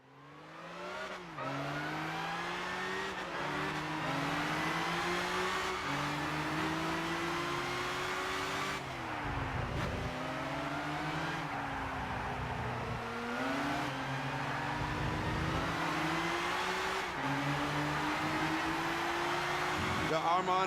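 Race car engines in Gran Turismo 6 at a live E3 2013 competition, screaming steadily for the whole stretch, with pitch climbing through each gear and dipping at shifts and corners.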